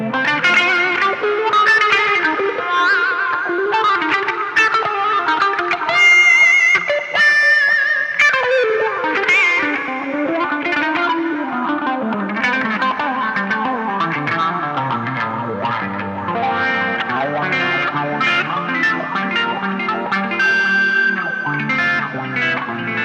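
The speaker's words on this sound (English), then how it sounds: "In terms of functionality and sound, the original CryBaby, it certainly sounds great and it functions just as you would expect." Electric guitar played through a Dunlop CryBaby wah pedal, a continuous loud distorted riff whose tone sweeps up and down in vocal-like wah swells, with no talking.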